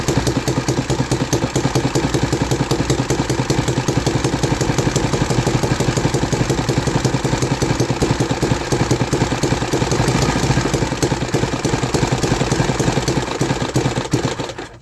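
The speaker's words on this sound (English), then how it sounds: "let's give the engine a couple more spins" A 3D printed engine runs steadily for about fifteen seconds, with a dense rapid clattering pulse at a constant idle pace, loud and close, and no voices.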